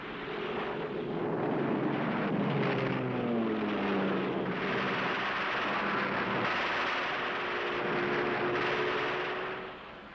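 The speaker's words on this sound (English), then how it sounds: "he undergoes all the shattering effects of the American fighter-bomber attacks" American fighter-bomber aircraft attacking in Normandy, a loud, sustained roar of engines with shifting, swooping tones as planes pass overhead, steady and continuous without speech.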